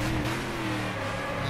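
A Brazilian V8 stock car engine in Stock Car Extreme revs up at Interlagos, a steady rising engine drone heard close and alone for a short burst.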